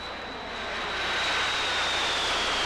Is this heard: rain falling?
no